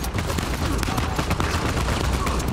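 Dense, continuous gunfire from an Uncharted 4 firefight in Scotland, a steady barrage of overlapping shots and automatic bursts with no gaps, loud and close throughout.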